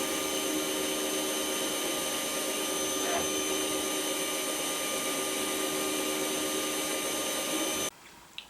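Machine cutting a 20-degree chamfer around the edge of revolver cylinders, a loud continuous whirring drone with steady tonal whine that runs unbroken and then cuts off abruptly near the end.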